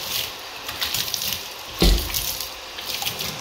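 Water running to rinse a shower in an apartment being cleaned for move-out, a continuous splashing hiss with one louder gush midway, close by and with no talk.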